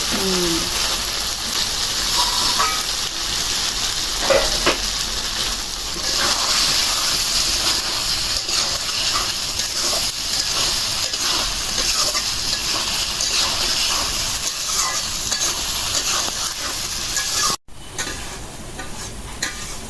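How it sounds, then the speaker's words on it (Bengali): River fish frying with spice paste in a pan, a loud continuous sizzle with spoon stirring and scraping throughout, close up, with a brief clatter near the end. "মশলার সাথে ভালো করে কষাই নিলাম"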